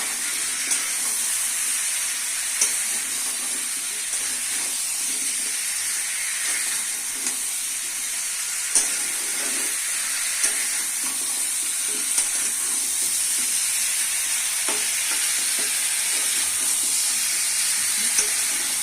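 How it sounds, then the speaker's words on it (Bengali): Potatoes and bottle gourd sautéed in a pan, a continuous bright hiss and sizzle running throughout, with faint scraping stirs and a few small clicks over the steady frying noise. "আলুকে ভালো করে কষতে নিয়ে অল্প অল্প করে"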